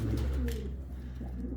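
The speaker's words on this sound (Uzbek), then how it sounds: "Ko'k ko'z kaptarlarimiz." Uzbek blue-eyed pigeons coo softly in a low, steady murmur that continues throughout, close by and fairly quiet, with no talking over it.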